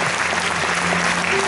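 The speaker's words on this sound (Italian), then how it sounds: "Bel applauso da parte nostra," Dense applause from an audience at a live event, steady and loud throughout with a faint murmur of voices underneath.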